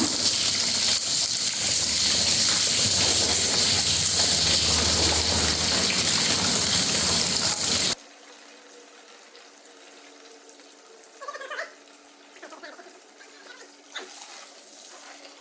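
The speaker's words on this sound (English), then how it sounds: "pull this hose off and drain the coolant" Coolant gushes out of a pulled hose on a Mercedes SLK200, a loud steady splashing pour for about eight seconds that stops abruptly and leaves faint drips and small handling sounds.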